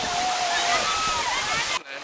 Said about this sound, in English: we're now at the Kintamo waterfalls